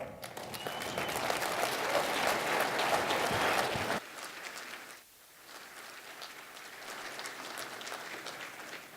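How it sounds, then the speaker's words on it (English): Loud audience applause at an SCEDC annual meeting, sustained for about four seconds before dropping to softer, scattered clapping and room noise. "Give a thunderous round of applause for Mr."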